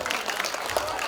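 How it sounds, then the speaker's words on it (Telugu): Audience clapping at a primary school annual day, a steady wash of many hands, with faint voices mixed underneath. "మీరందరూ 2 నిమిషాల పాటు చప్పట్లు కొడితే సార్ మాట్లాడతారు"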